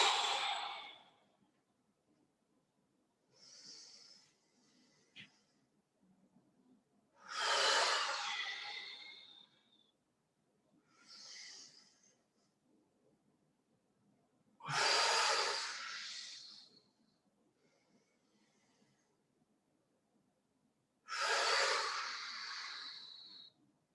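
Slow, deep breaths during a core and stretch exercise session, with long audible inhales and exhales spaced several seconds apart, close and soft with quiet gaps between.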